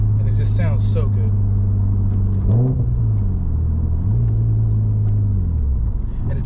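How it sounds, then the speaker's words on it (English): A rear-wheel-drive, right-hand-drive Nissan Skyline R33 GTS with its non-turbo RB25 straight-six idles with a deep, steady drone, then a brief throttle blip swells and falls back to idle, heard close by. "it has that same engine and it just sounds so good"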